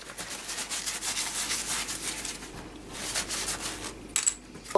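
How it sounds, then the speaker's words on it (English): Homemade wooden guitar picks are rubbed down with a paper towel, giving a steady, close, dry scrubbing in repeated strokes that pauses briefly and ends with a few sharper scrapes. "Just give these a little rub down with a paper towel."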